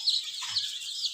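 Chickens on a poultry farm give a short, faint burst of clucking and squawking, heard alone at a distance.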